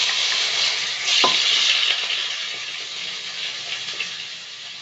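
Salted chicken pieces hit a hot wok for a mixed-vegetable stir fry, giving a loud, close, steady sizzle with a brief clunk near the start and crackles easing slightly over several seconds.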